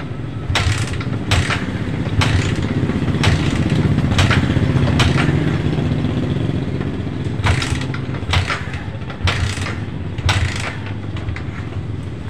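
A Yamaha Vixion motorcycle engine, which has a sudden stalling fault, is kick-started and then runs steadily nearby, with a low rumbling idle and sharp mechanical clacks scattered through it.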